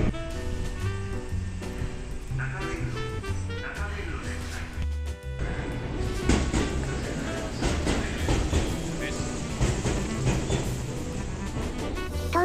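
A Tokyu Toyoko Line local train runs at night, its rumble and rhythmic wheel clatter rising to a loud, close passage partway through, with a tonal electric whine and layered mechanical noise heard throughout.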